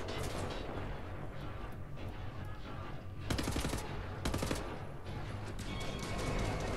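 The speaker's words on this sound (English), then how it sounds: "I know that the big guy is shooting at me." Gunfire in the shooter Wolfenstein: The New Order comes as dense, rapid bursts over a constant rumbling backdrop, with two louder volleys standing out midway, all fairly quiet overall.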